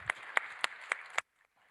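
Five sharp, evenly spaced claps ring out in a small room, loud and close, then stop abruptly into near silence.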